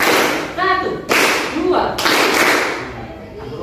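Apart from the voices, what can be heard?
students clapping on command in a classroom clapping game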